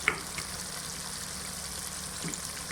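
Garlic, ginger, tomato, onion, red chilli and spices fry in a pan for a spinach and beef mince dish, giving a soft, even sizzle throughout with a faint clink near the start.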